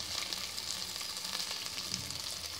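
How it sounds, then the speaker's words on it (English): Soya chunks land among sizzling carrots in a hot pan for veg haleem, giving a dense, continuous close-up frying hiss with faint stirring. "Now I'm adding"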